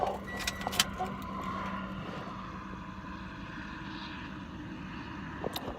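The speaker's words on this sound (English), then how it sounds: "There's a helicopter over me." A low, steady rotor drone of an aircraft passing overhead, continuous and moderately distant, with faint outdoor background noise and no talking.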